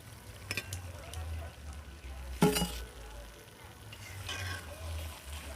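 Fried nimki, a crisp flour snack, lifted from hot oil with a soft sizzle and a few sharp metal clinks of a utensil, close and moderately quiet.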